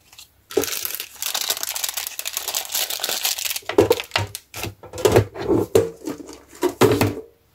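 Papers slide into a plastic sleeve with loud crinkling and rustling, followed by a series of sharp, close crackles and taps as the sleeve is handled.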